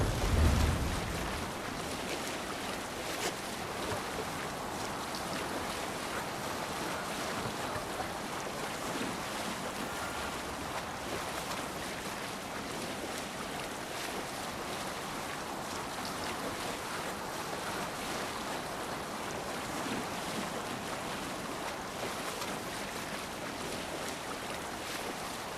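A Viking longship under sail on the open ocean in Assassin's Creed Valhalla, with steady wind and waves washing against the hull, a continuous soft rushing bed with no talk.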